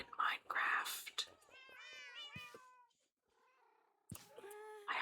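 Several cats meow in a Minecraft game, a run of high, wavering mews, then a softer call and another burst of meowing, all fairly close and clear with faint whispering around them.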